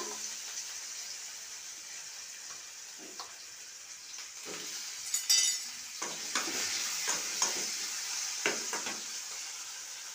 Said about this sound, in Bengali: এরপর আস্তে আস্তে সবজিগুলো ভাজবো। প্রথমে দিলাম আলু